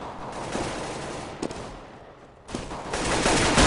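Gunfire in a competitive Counter-Strike match: rapid bursts of in-game rifle shots with sharp individual cracks, fairly loud and dense, rising again toward the end.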